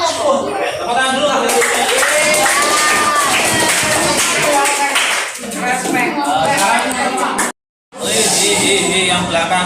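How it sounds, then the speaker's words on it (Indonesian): Students in a classroom clap their hands together in a dense, loud burst that runs several seconds, breaks off briefly, then resumes, with chatter and voices mixed in. "Tepuk tangan dulu."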